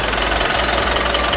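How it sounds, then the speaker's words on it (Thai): Close, loud idle of a 2016 Mitsubishi Pajero Sport 2.4 GT diesel with the air conditioning off, a steady, even clatter and low rumble throughout with no voices. "อันนี้เป็นเสียงเครื่องแบบไม่เปิดแอร์นะครับ"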